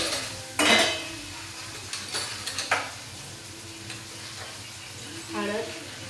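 Tomato and masala fry and sizzle in a pan while a metal spoon stirs and clinks against it, sharp scrapes and taps over a low steady sizzle, close by.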